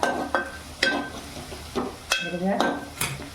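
Onions frying with cinnamon, cloves and black pepper over a high gas flame for a mutton liver dish, soft sizzling under repeated sharp clinks and scrapes of a spoon against the pan, with a voice talking throughout.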